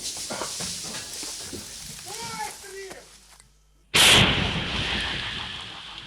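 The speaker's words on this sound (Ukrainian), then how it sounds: "Розрахунок готовий до бою і зараз буде постріл в бік ворога." Voices talk, then a brief hush before a single very loud, close blast from a self-propelled artillery gun that booms and rumbles away slowly.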